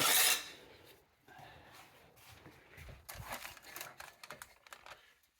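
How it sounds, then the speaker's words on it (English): A metal spatula scrapes under baking fish fillets to flip them, with a sharp clatter at the start, then quiet rasping and a burst of uneven scraping and tapping against the pan. "Now I'm going to flip them if I can without tearing them apart."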